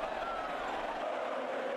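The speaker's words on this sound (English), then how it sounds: "Thousands of cheering revellers sprayed each other with wine to kick off the 9-day bull running festival of San Fermin." Dense crowd of revellers at the San Fermin bull running festival in Pamplona, a steady roar of overlapping voices and cheers filling the whole moment at moderate level.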